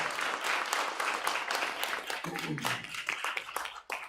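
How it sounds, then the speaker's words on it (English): An audience at a magazine release party applauds, a quick burst of many clapping hands with a voice or two talking beneath, then fading raggedly near the end. "Can we give Soph a round of applause?"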